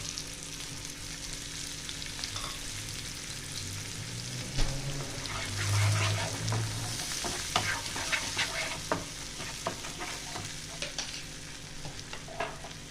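Tomato paste with chopped green chilli frying in a pan for Bengali-style paneer masala, a steady close sizzle broken by scraping stirs and soft clinks of the spoon, with no talking.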